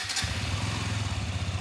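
A motorcycle engine starts up and runs with a throaty, pulsing rumble, steady and close, without talk over it.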